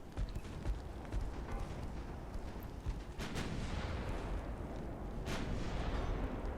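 Booming warship gunfire rumbles in the naval battle game Ultimate Admiral: Dreadnoughts, a dense low roar with a few sharper shots standing out among battleships and torpedo boats.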